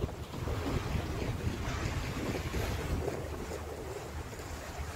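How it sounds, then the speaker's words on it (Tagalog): Sea waves rolling and splashing at the Whampoa harbour front on a cold, windy day, a steady rushing surf mixed with heavy wind noise on the microphone. "Ang alon ng dagat."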